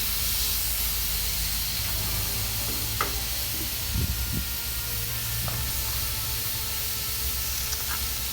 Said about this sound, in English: grilling up the onions from the marinade as a little bit of an extra treat